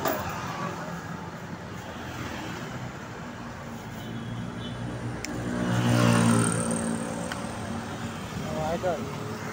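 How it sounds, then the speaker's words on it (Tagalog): Highway traffic rolls past in Masambong, Quezon City, a steady roadside rumble with one vehicle swelling louder as it passes midway, while people talk over the noise. "Dito po tayo rito sa may highway na Masambong. Masambong, Quezon City."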